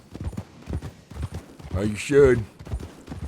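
Horse hooves clip-clop in a steady walking rhythm in the Red Dead Redemption 2 video game, moderately close, with people talking over the hoofbeats throughout.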